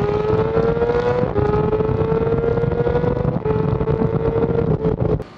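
A BMW S1000RR sport motorcycle accelerating hard in a street race gives a loud, sustained high-pitched engine whine that climbs steadily in pitch, with a brief dip partway through and a sharp cutoff at the end.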